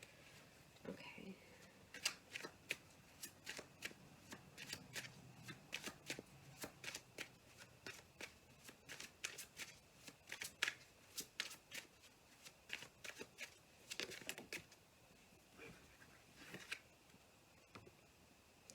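Tarot cards being shuffled close up, a long run of irregular crisp riffling slaps and flicks, quiet overall with faint talk mixed in.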